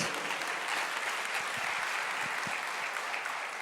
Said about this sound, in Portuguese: Então, pode aplaudir a Deus.